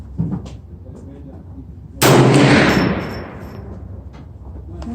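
A single loud 450 Bushmaster rifle shot at 75 yards from a Bear Creek rifle cracks sharply and rings out with a long decaying echo, preceded by quiet ambient noise and a faint earlier thump.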